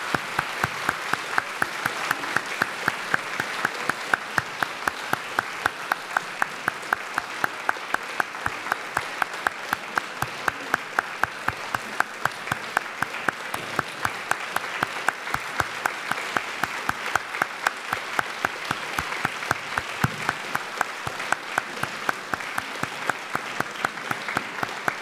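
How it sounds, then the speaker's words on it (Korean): A large congregation at a church ordination and licensing ceremony keeps up sustained, rhythmic unison clapping, steady and dense throughout, with no break. "계속해서 박수하십시다."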